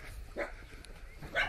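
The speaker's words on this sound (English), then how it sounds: "There's a doggy hiding under here." A timid dog hiding underneath something in a Nanjing countryside village barks a few times, two or three short yaps spread over a second and a half, fairly faint against outdoor background noise.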